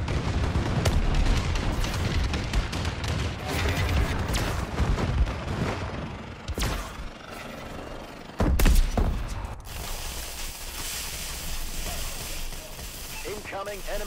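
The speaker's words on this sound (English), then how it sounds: "Friendly bombing run incoming." Explosions from a friendly bombing run in the video game Call of Duty: Advanced Warfare, a dense barrage of loud booms and gunfire-like blasts rolling across the whole stretch, with a heavy impact near the middle and game voices mixed in.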